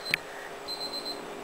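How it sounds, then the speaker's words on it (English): A small click, then a faint alarm gives a quick run of short, high-pitched beeps in a steady pattern. "Oops, that's my alarm."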